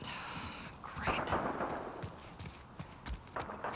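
Bursts of gunfire in The Last of Us Part II crack through a busy, noisy mix, sharp irregular shots over a steady background rumble, with talk mixed in.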